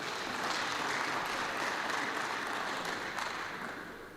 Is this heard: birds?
no